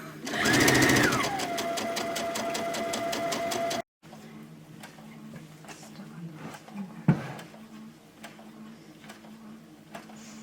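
Sewing machine stitching quilt fabric in a fast, rapid mechanical chatter that winds up and runs steadily, then stops abruptly, leaving quiet room sounds and a single clack; voices talk nearby.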